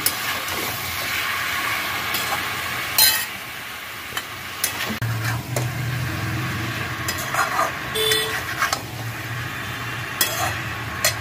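Boiled jackfruit being sautéed in a pan, a steady hiss of frying with sharp clatters and scraping from the spoon, and a brief low rumble midway.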